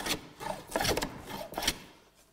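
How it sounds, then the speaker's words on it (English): A hand plane shaves a wooden board down toward a gauge line, working against the grain, giving three close, rasping strokes in a steady rhythm, each a brief scraping swish that fades at the end. "I'm just planing down to my gauge line like this"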